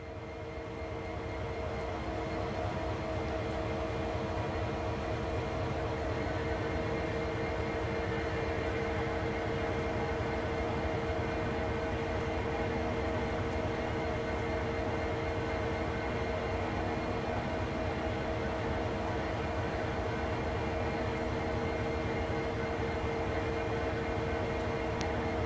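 A locomotive turning on a turntable in the Train Sim World video game gives a continuous low mechanical rumble and steady hum. It stays even and unbroken throughout, with no talking.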